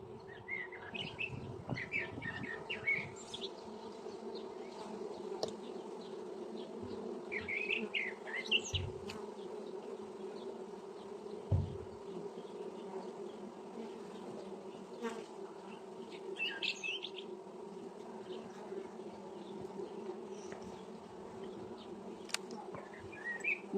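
Honey bees hum at the hive while a colony is being split, a steady, close drone running throughout, with faint bird chirps scattered over it.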